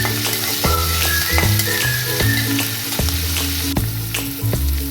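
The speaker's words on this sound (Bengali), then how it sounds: "পেঁয়াজটা একটু ভেজে নিচ্ছি" Onions fry in hot oil in a kadai for pav bhaji, with a steady, close sizzle throughout and recurring soft thumps and scrapes of stirring.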